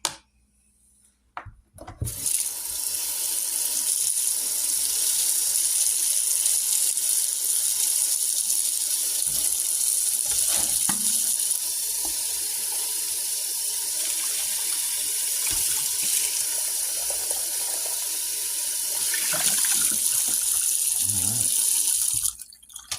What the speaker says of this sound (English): You can wash it off the brush here. Wash it out real quick.